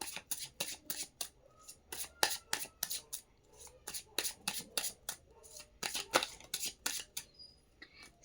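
Playing cards being shuffled by hand in rapid, crisp riffling bursts, close and fairly quiet, with a few soft voice murmurs underneath.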